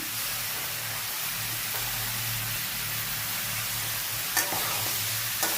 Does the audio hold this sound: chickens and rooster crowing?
no